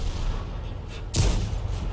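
A single heavy tank cannon shot from an M18 Hellcat in a war video game, a sharp broadband blast about midway that rolls into a low rumble over steady battle noise.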